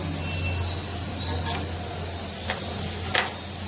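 A dense, loud hiss of chana dal fritters deep frying in oil fills the clip, with a few brief bubbling pops rising above the steady roar.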